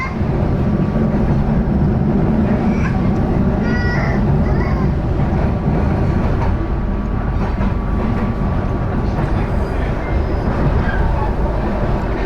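A KA Pasundan New Generation passenger train crosses the Trowek bridge, heard from inside the carriage as a loud, steady rumble and rattle of wheels and car bodies throughout.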